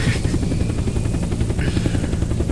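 A helicopter flies in the survival game Unturned, its rotor thudding in a fast, steady pulse close and loud, continuous without talk.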